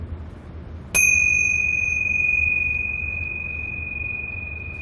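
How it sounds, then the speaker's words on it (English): A meditation bell rings once with a clear, sharp strike, then sustains a long pure tone that slowly fades over several seconds against a quiet room hum. "You will hear the sound of a bell."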